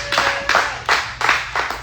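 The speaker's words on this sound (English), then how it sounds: "Clap it up again for him performing in front of DJ Dash." A few people clap for a performer at a live event in Dame Dash Studios, in short bursts of loud, close hand claps with brief pauses between them.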